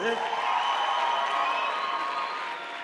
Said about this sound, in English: Give yourself a major round of applause.